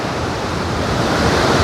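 Coral Sea waves roll and hiss steadily on a grey day after rain, a broad, loud, continuous wash with some wind noise and no voices.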